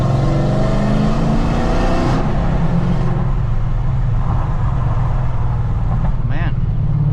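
Car engine pulling hard in third gear while passing under an overpass, a loud continuous roar with rising engine tones, heard from inside the car and steady throughout.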